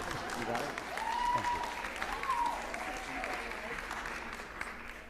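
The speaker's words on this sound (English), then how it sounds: "we can clap for them individually" School district meeting audience applauding staff members one by one, an even stretch of moderate clapping with a voice speaking over it.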